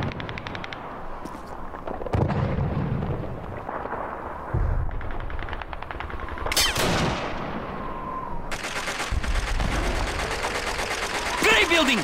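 Gunfire in Call of Duty 2, with bursts of rapid machine-gun fire, sharp rifle shots and booming blasts layered over battlefield noise, as shouting voices carry through the fighting.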